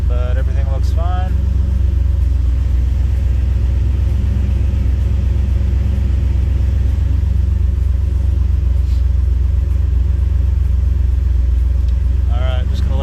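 Nissan 240 engine idling as it warms up, a steady deep rumble close by with a brief voice at the start and again near the end.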